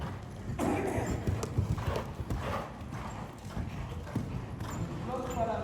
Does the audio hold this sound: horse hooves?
yes